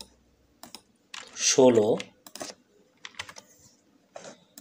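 Computer keyboard typing in bursts of clicks while entering text in a WordPress Elementor page builder, with someone speaking over the keys in the middle.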